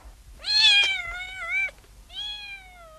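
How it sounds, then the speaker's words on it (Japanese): A cat meows twice, a long wavering meow followed by a shorter one after a brief pause, close and clear against a quiet background. "猫がいます。"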